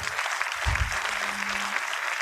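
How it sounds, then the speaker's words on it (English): Audience applause at a college convocation ceremony honoring the faculty and staff team, steady even clapping from a large hall crowd, with a low thump and a faint hum beneath. "for the amazing team that we have, about whom we are always sure that, they have our back, a round of applause"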